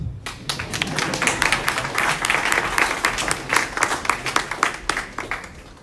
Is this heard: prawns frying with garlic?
no